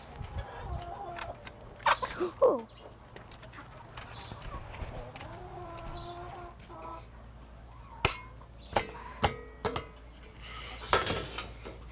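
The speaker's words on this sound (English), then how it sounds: "let's go over to the chickens then" Chickens clucking in a yard, scattered calls and squawks over roughly twelve seconds with some knocking and clopping noises, and a single brief voice exclamation.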